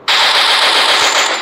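A loud, continuous burst of rapid machine gun fire from a shooting video game, close and dense, with no talk over it.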